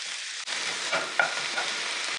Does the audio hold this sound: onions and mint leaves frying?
yes